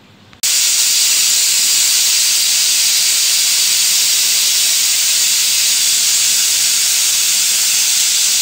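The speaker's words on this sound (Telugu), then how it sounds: "స్టవ్ మీద కుక్కర్ పెట్టుకొని విజిల్ పెట్టుకొని ఒక 3 విజిల్ వచ్చేంత వరకు ఉండనియాలి" A pressure cooker on a stove lets out a loud, steady whistle of escaping steam that bursts in abruptly after a brief quiet start and holds on unbroken, a bright hiss with no voices.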